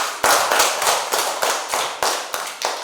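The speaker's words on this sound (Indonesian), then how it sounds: "Mari kita tepuk tangan dulu untuk kelompok 1." A class claps for a student group in unison, rhythmic loud group claps landing roughly every third of a second, each a sharp burst with a short decay, close and with no talk over them.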